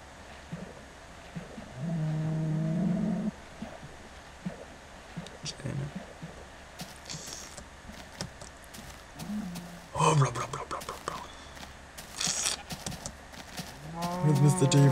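A blocky cow in Minecraft gives several drawn-out moos, one early, a couple more later and one at the end, scattered among other game sounds.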